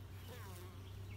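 Native honeybees buzz in a steady, dense hum as they fly in and out at a busy hive entrance, a continuous close insect drone over a low background hum.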